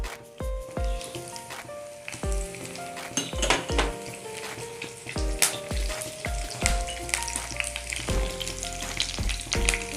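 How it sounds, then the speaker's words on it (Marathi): Mustard seeds and curry leaves tempering in hot oil for a Maharashtrian pithla, loud crackling sizzle punctuated by repeated sharp metallic knocks of a spoon against the pan. "मोहरी टाकून घेऊ आपण. आता थोडासा कढीपत्ता टाकून घेऊ."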